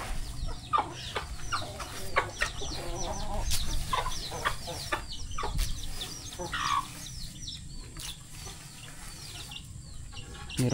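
Backyard laying hens cluck and squawk around feed, with a rooster nearby. The calls come close and scattered, with short bursts over a low background rustle.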